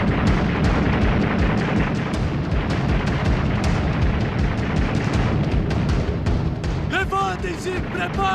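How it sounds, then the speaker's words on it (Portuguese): Dense, continuous World War II gunfire and artillery crackle in rapid, overlapping bursts, loud and relentless, with a voice speaking near the end. "Sentíamos e ouvíamos os tiros."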